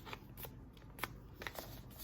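Stiff paper triangles being folded over one another, making a few short, crisp rustles and creases, close and quiet, with no voices.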